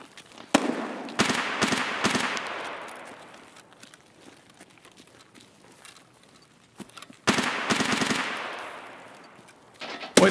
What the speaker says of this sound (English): It's a lot of shots over at Old Gas there.